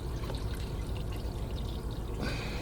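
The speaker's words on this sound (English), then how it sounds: "we just put this hose down a little bit to drain all the coolant" Engine coolant drains steadily from a lowered hose on a Ford F150 5.0 during a water pump replacement, a constant close pouring and splashing rush that runs without a break, with no talking.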